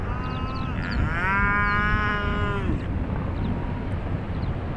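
A cow from a cattle farmer's herd near a beach lets out one drawn-out, close moo, with a softer call behind it, over steady wind and surf-like background noise.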